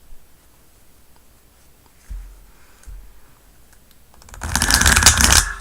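A tarot or oracle card deck is shuffled; faint taps give way to a loud, dense burst of riffling cards in the last second or so, close up and without speech.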